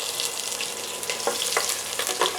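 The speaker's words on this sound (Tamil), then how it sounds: "நல்லா ஒரு வாட்டி வதக்கி விட்டுக்கலாம்" Chopped garlic and cinnamon sizzle and crackle steadily in hot oil in a pan, with occasional scrapes and stirs as they are sautéed, close and fairly loud with no speech.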